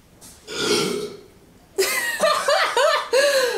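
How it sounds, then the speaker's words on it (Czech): Loud, drawn-out belches come after drinking strangely flavoured soft drinks, one long burp followed by a rapid run of shorter burps mixed with laughter and chuckling. "Můžeš chvilku vydržet bez toho krkání, to je strašný."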